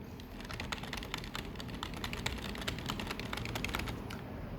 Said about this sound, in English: this is on a standard keyboard.